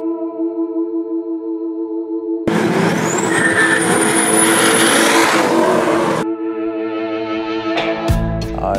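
A 1968 Chevy Camaro SS engine rumbles at a steady idle, then swells into a loud, roaring broadband rush for several seconds before settling back to idle, followed by a few sharp knocks at the end.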